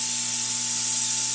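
Compressed air line on a tire mounting and balancing station hisses steadily and loudly, a constant broadband rush with a faint underlying hum from the shop equipment.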